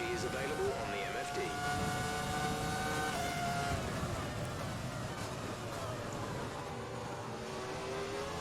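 A Formula 1 car engine in the F1 2020 racing game accelerates on a rainy grand prix track. Its whine climbs and falls in pitch steadily, with a voice talking faintly beneath it.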